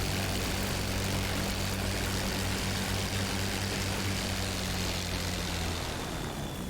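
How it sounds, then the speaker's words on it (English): A Messerschmitt Bf 109 in the DCS combat flight simulator taking off, its propeller engine droning loud and steady with a strong low throb that shifts slightly toward the end, no voices over it. "They go off to a different runway and take off from a different spot."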